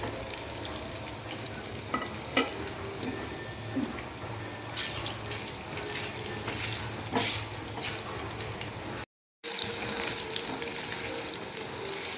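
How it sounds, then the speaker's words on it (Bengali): Paneer fries in hot oil in a wok, crackling and sizzling loudly and steadily close by, with occasional pops and stirring and a brief gap in sound near the end. "তেল গরম হয়ে গেছে, এবার আমি পনিরগুলো দিয়ে দেবো।"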